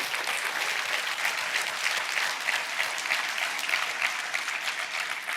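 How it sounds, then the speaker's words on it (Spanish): A church congregation claps together in praise, a steady, even wash of many hands carrying on for several seconds with no voices above it. "¿Cuántos dan un aplauso al Señor"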